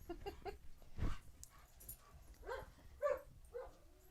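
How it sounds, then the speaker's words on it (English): Pet dogs in a home whimper and yip excitedly, several short high whines and a soft bark at moderate distance, fairly quiet, with no talk over them. "Sorry, our dogs are saying hi"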